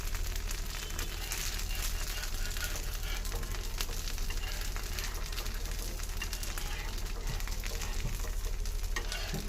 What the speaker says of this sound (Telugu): బూడిద గుమ్మడికాయ దోశలు